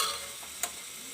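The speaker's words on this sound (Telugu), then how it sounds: "ఈ ఉల్లిపాయలు ఫ్రై చేయాలి" Onions frying in oil inside a pressure cooker while cooking a tiger prawn dum biryani, a soft steady sizzle with a faint stir and a brief tap midway.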